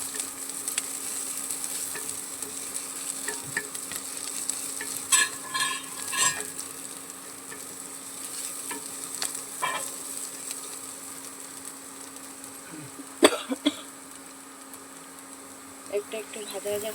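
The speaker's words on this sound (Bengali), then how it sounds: "এর মধ্যে রসুন কুচনোটা দিয়ে দেবো।" Chopped garlic sizzles in a pan while being stirred for a small-fish curry, a soft continuous fry with occasional scraping clinks of the spoon and faint talk in the background.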